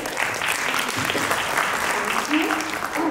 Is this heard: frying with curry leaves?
no